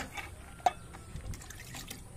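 Cucumber and other garden plants being watered: quiet trickling and splashing of water onto leaves and soil, with a brief sharper splash near the start and soft intermittent dribbles after.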